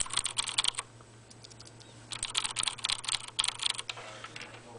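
Clicky Cherry MX Blue switches on a 104-key large-print mechanical keyboard clatter in quick bursts of typing, with short pauses between runs, close and fairly quiet over a low steady hum.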